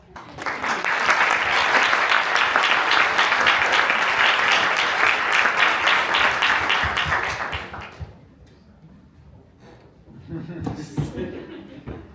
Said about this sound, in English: Let's just give our speakers one more round of applause.